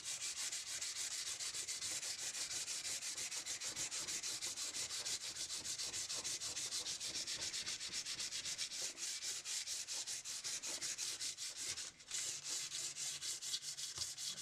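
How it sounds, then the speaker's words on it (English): Steady, continuous rubbing of 500 grit emery cloth over electro-etched metal art, a dense even scratching hiss that runs close and loud for the whole stretch with only a brief pause near the end, no voices. "give it a quick rub down with 500 grit emery cloth"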